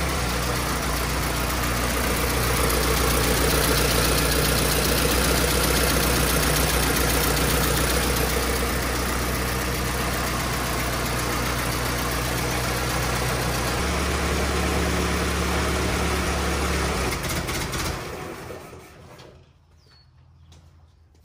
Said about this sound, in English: a perfect application for these priming plugs would be on a motor like this, a one-cylinder stationary engine